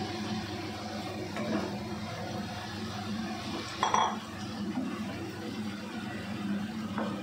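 Potatoes added and stirred in a pan for a vegetarian papad curry, steady background frying hiss with scattered utensil clinks and one brief louder metallic knock.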